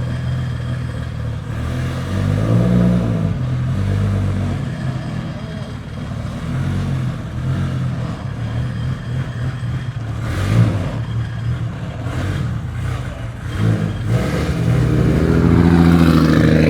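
A Nissan Skyline R34 GT-R V-spec with a 2.8 stroker engine pulls away from a dealership, its engine droning and revving loudly throughout, rising again strongly at the end.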